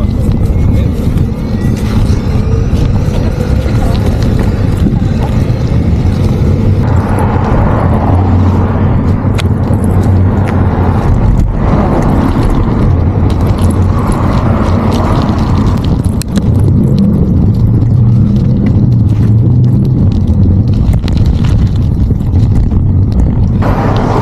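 Cars passing along the main road in Nuuk, Greenland, a continuous loud rumble of traffic with engines swelling and fading as vehicles go by, heavy wind buffeting the microphone.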